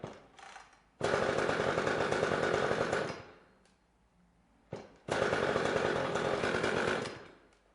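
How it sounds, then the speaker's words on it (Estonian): A brand-new Echo CS-360WES chainsaw starts with a pull of its starter cord: two bursts of loud, buzzing two-stroke engine noise, each lasting a few seconds before dying away, with a quieter gap between them. "pumpame kütuse üles kütusepumbaga, toore klapp välja, tõmban nööri välja"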